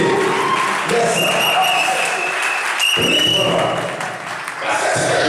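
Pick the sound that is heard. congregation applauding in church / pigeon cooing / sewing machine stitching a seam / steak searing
congregation applauding in church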